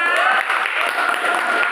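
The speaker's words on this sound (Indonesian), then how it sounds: "Kita berikan tepuk tangan untuk kelompok 2." A short burst of clapping from a class of students indoors, loud and brisk, fading after under two seconds.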